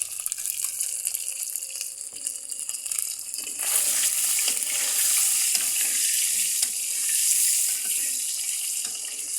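Frying in a pan with turmeric, a steady bright hiss and crackle of hot oil that swells louder midway and carries on continuously, close up, with no speech.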